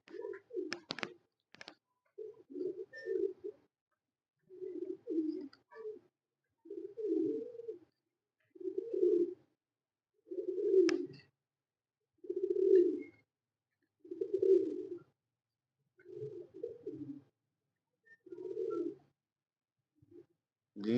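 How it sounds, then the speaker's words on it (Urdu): Pigeons coo on a rooftop loft during evening flights, a steady series of about a dozen soft, rounded coos repeating every second or two, close and clear against a quiet background, with a few sharp clicks early on. "ان کی گائیڈ لائن میں یہ کبوتر شام کی پروازیں دے رہے ہیں"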